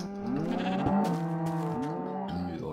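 Cows moo on a farm in a video game, several low drawn-out calls heard close and fairly loud, overlapping one another with no speech.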